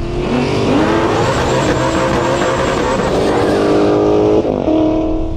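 Ford Mustang launching down a drag strip in a race against a Tesla Plaid, a loud, close engine roar climbing through revs with tire squeal and a sharp gear change near the end; no talk.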